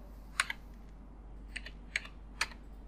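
Computer keys are typed while entering a CAPTCHA on an online bank application form, a few soft, close clicks in small clusters over a quiet background.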